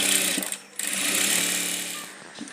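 A sewing machine stitches the front piece of a blouse, its motor whirring steadily and close, with a brief pause in the middle and a slowdown near the end.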